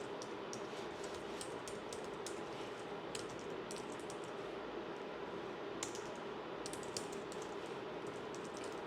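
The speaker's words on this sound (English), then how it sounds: "now you're just going to type in your personal information" Typing on a computer keyboard while entering personal details into an online form, with a steady run of soft clicking keystrokes over a constant background hum and no talking.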